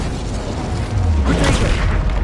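Fire spell cast in Hogwarts Legacy, a dense whooshing roar that swells into a fiery burst partway through, loud and close, with no speech.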